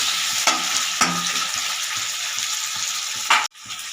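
Onions and tomatoes sauté in a pan for crab gravy, a loud close sizzle broken by stirring scrapes and spoon knocks, which cuts off sharply near the end.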